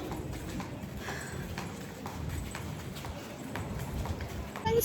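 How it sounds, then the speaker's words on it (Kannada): Horse hooves clip-clop at a steady walking rhythm near the Kapila river, moderately close, with people talking over the steps. "ಹಾರ್ಸ್ ನೋಡಿ, ಹಾರ್ಸ್."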